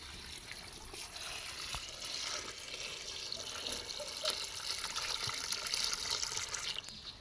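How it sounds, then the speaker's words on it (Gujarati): Water pours steadily into a bowl at home for mixing a batch of soft play dough, a continuous faint splashing and trickling that runs for several seconds with no talking. "સો ગાઈઝ હવે આ બધું પાણી આપણે આમાં નાખી દઈશું"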